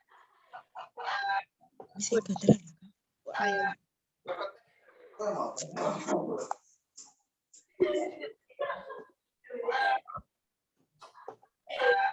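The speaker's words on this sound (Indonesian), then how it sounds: "Tolong itu ayam didiamkan dulu." A chicken clucks and squawks in loud, irregular bursts close by, with short pauses between the agitated calls.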